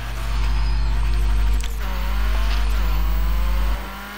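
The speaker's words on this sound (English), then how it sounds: "when I am downshifting, you can, or letting off the throttle, you can tell that I have fitted it with a turbo" A turbocharged Mercedes BTCC race car in the racing game Forza Horizon 3, a loud sustained engine drone that dips briefly as it downshifts or lifts off, then climbs again before cutting away at the end.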